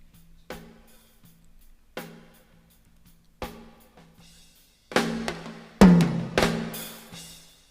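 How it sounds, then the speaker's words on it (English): Sparse tom hits from a drum track passed through a noise gate ring out one at a time with silence between, then a busier run of louder drum and cymbal strikes near the end. "Here comes a tom here, listen."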